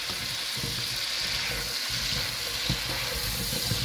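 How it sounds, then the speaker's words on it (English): Sweet potatoes fry in butter with a steady, close sizzle while a utensil turns and stirs them in the pan, with soft scraping bumps throughout and no voices. "I'm going to turn them, let them get the butter all in there and the salt"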